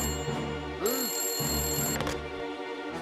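A telephone rings in a kids' cartoon, its steady electronic bell trilling through repeated bursts over a low background hum, with no voices.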